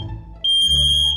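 An X-Sense interconnected smoke alarm bursts into a loud, piercing, continuous high-pitched tone after a brief low rumble, sounding steadily and close by until the end.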